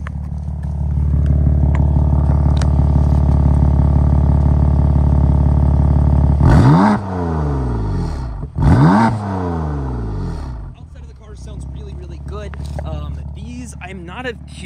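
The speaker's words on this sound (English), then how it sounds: "Can safely give you guys some revs now." BMW F80 M3 with the S55 engine, heard from inside the cabin: a loud steady engine drone rises, then two sharp revs flare and drop back, settling to a lower hum.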